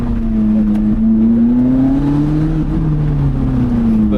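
Lotus Elise sports car engine driving a winding road, a steady loud drone rising and falling in pitch through corners, heard from inside the car with no talk.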